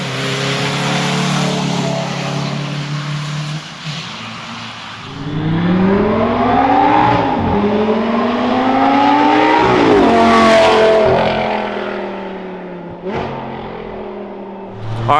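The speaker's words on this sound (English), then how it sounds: "we're gonna get a flyby with the Lambo" A Lamborghini fitted with an aftermarket intake passes by outside a high school: a low idle-like rumble gives way to a loud rising rev as the car approaches and sweeps past, pitch climbing through gears, then fading, with a final sharp blip.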